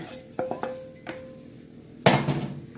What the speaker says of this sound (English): Now we're going to add our bacon back in.